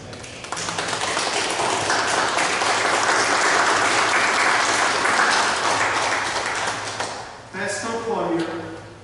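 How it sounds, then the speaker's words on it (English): A church congregation applauds together during a Sunday service in honor of a pastor: dense, sustained clapping that swells and holds loud for several seconds, then tapers as a voice and organ-like tones come in. "yes, please clap your hands"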